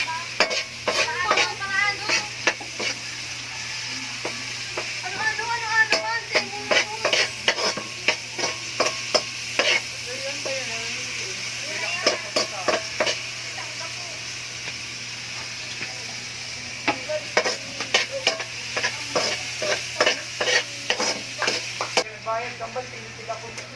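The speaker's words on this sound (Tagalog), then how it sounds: "Next, sibuyas na igigisa." Onions sautéing in a frying pan for a shrimp dish, a steady sizzle under repeated scraping stirs of a utensil against the pan, close and fairly loud, with brief pauses between bursts.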